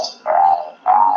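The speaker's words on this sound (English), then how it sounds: "Here is a frog that's vocalizing and it's attracting the female." A male frog from the Western Ghats calls to attract a female, giving two loud, close, nasal tonal calls separated by a short pause.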